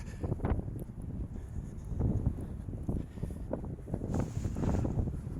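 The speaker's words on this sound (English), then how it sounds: "20 to 30 miles an hour, gusting to something up near 45" Strong, gusty wind of 20 to 30 mph, gusting near 45, buffets the microphone during a sunset walk, in uneven rumbling bursts, swelling and easing continuously with no other clear sounds.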